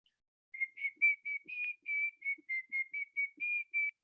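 A person whistles a series of short, clear notes in a quick, steady rhythm, close and fairly soft, with quiet gaps between.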